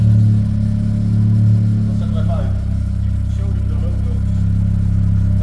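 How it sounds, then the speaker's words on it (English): A turbocharged 400+ hp Volkswagen MK2 with a TDI diesel engine and Rocket Bunny body kit driving, a loud steady engine drone with a faint turbo whistle riding above it, heard from inside the car. "Frank, that turbo whistle, right?"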